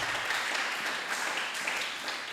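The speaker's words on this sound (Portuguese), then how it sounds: "Aplaudimos para o Senhor Jesus." A church congregation applauds for the Lord Jesus, steady crowd clapping blending into a continuous dense patter, moderately loud and even throughout with no distinct individual claps standing out.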